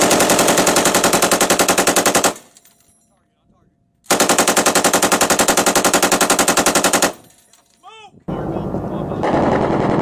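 Machine guns on AH-1 SuperCobra and AH-6 helicopters firing during Marine training: two long, loud sustained bursts of rapid fire separated by a quiet gap, then a fainter rumble with brief distant whistling and noise at the end.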